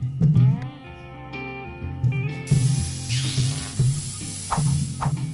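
A spray bottle mists in the Job Simulator video game. Short, airy hissing bursts sound among game tones and music, with several quick sprays near the end.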